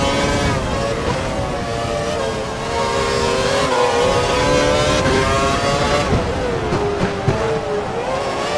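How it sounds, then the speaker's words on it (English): A Formula 1 car in a racing video game screams at full revs, its engine note holding high and steady before dipping and climbing again as it shifts, with no talking over it. "We think the car behind is running on full revs."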